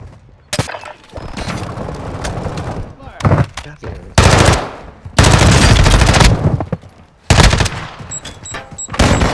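Loud bursts of automatic gunfire in the Warzone battle royale shooter, several sharp volleys separated by brief pauses, up close and dominating, with players talking over parts of it.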